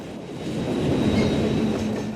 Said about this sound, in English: This is Canadian Pacific Train 458, a southbound manifest that ran between Binghamton, New York and Enola, PA